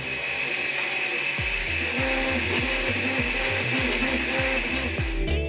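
An Anet A6 3D printer running on a wooden desk gives a steady mechanical whir with rhythmic stepper-motor sweeps and buzzing pulses, moderately loud and close, with no talking.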